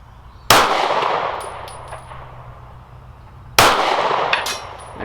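Two sharp metallic clangs from 9mm pistol rounds striking steel targets, fired from a Girsan MC P35 PI LW, each a loud crack followed by a ringing decay, spaced about three seconds apart.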